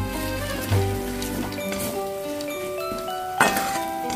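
Spices and chilli powder, including Kashmiri red chilli powder, sizzle and crackle while sautéed in a pan, a soft spattering hiss with scattered clinks and taps of a utensil.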